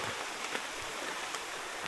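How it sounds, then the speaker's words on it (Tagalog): Steady rain falls through a forest during a wild honey gathering trip, a dense even hiss of drops with a few brief louder spatters, no voices. "Lumakas na po ang ulan."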